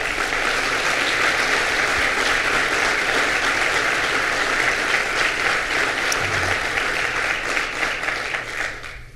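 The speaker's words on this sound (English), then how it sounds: "So let's give the new president another round of applause." A crowd at Marist College applauds the new college president, a sustained dense roar of clapping that runs strong for about nine seconds before tapering slightly at the end.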